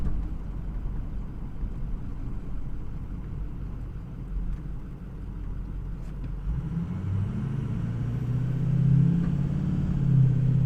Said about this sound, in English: The old truck runs pretty good.